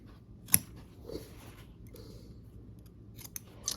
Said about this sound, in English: we'll clip the last corners just to remove the excess bulk